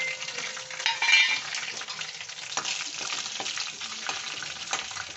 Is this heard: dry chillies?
yes